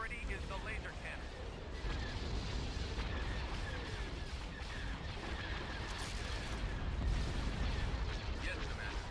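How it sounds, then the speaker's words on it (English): Laser cannons firing in a space battle in the Star Wars strategy game Thrawn's Revenge, Hapes Consortium ships against a Super Star Destroyer, a dense continuous barrage of booming blasts and rumbling explosions, loud and sustained. "Fire on those laser cannons."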